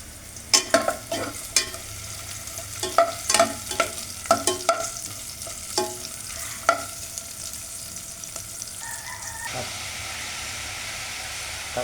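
Vegetables stirred in a hot pan, repeated scraping strokes over a steady sizzle, close and fairly loud, with the stirring stopping near the end while the frying hiss continues alone.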